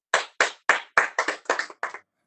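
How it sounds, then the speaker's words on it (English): Audience members at a city council meeting clap in a short burst of about seven or eight distinct, evenly spaced claps, crisp and fairly close, with no talking over them. "Let us applaud you."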